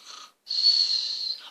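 A voice imitates a princess snoring, a short breathy snort followed after a brief gap by a longer, whistling wheeze on the inhale, close and fairly loud.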